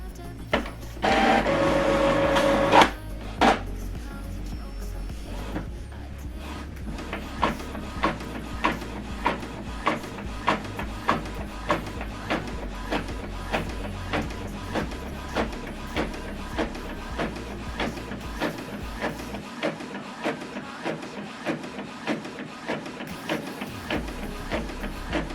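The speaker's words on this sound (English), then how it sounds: "It's now going back inside to print the second page." A Canon or Epson printer feeds paper back in for a second, double-sided page: a brief loud whir at the start, then a long run of rapid, evenly spaced mechanical clicks and ticks as it prints.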